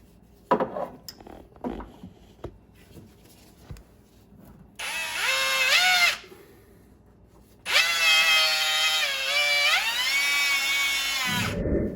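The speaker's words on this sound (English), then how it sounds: "Just going to use this abrasive wheel that I've got attached to my drill" A power drill with an abrasive grinding wheel runs in two bursts, whining and rising in pitch, after a few scattered clicks and taps, cleaning the gasket area of a MerCruiser boat exhaust manifold.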